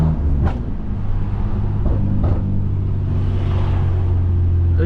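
Deep, loud cabin drone from a straight-piped 650HP BMW F80 M3, rumbling steadily with a few sharp pops and crackles breaking through near the start and middle.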